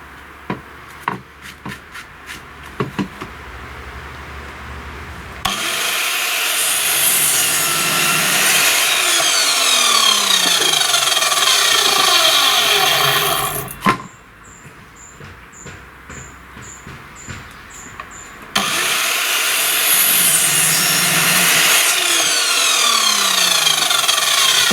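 Handsaw strokes cut through wooden planter pieces, steady rasping back-and-forth rhythm, loud and close, in two long bouts separated by a brief pause with light taps and knocks.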